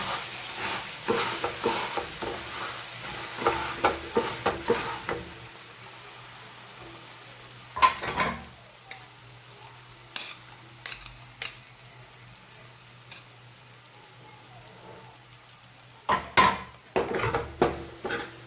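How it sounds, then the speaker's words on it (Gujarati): Pav bhaji vegetables are mashed in a hot pan, with repeated thuds and scrapes of a masher against the metal in bursts separated by pauses, over a quiet low sizzle. "ધાણા એડ કરી લઈએ થોડા, ફરીથી મેશ કરી લઈએ."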